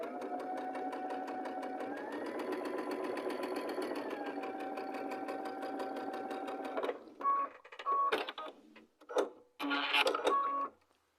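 A sewing machine stitches pieces of a bear paw variation quilt block, running as a steady, close whirring hum for several seconds, then stopping and starting in short bursts.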